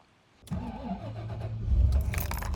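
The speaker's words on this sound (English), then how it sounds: "the engine is idling and the decibel meter is reading about 48 to 50" A Bentley engine cranks and catches after a moment of quiet, then settles into a low, steady idle close by and fairly quiet.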